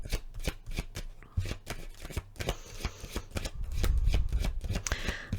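Tarot cards are shuffled close up in a series of crisp riffling and slapping bursts that come in an uneven rhythm, with soft handling noise between them and no talking.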